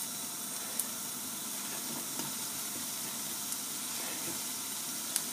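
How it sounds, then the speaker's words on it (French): Apples sautéing in melted butter with a spoonful of sugar over high heat, giving a steady, even sizzle and hiss throughout with a few faint clinks, no voices. "nous allons mettre nos pommes à revenir à feu vif"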